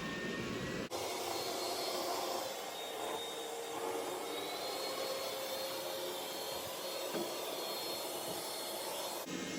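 A Roborock E4 robot vacuum runs through a medium-sized house, giving off a steady whirring hum that starts abruptly, holds for about nine seconds and cuts off, with no talking.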